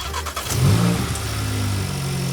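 A Volkswagen MK8 GTI fitted with a CTS Turbo intake cranks and fires up, settling into a loud, steady idle close by with no talking.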